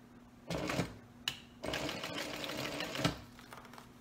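A sewing machine stitches the flap seam of a small leather wallet, running in bursts with short pauses between them. It stands close and fairly loud, and nobody speaks.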